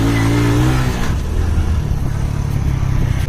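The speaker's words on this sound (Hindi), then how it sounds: "बाइक का पहला गियर है" A motorcycle pulls away in first gear, its engine revving loud and close with a rising whine before settling into a steady drone.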